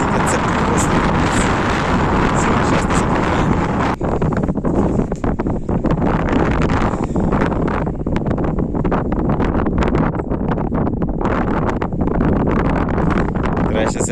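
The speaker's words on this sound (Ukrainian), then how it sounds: "Вітер" Strong, steady wind buffets the microphone in a continuous loud roar, with gusty rumbling throughout and a voice faintly audible beneath it.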